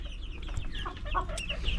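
Chickens cluck and chirp in short, overlapping calls, fairly close, with a steady low background rumble and no talking.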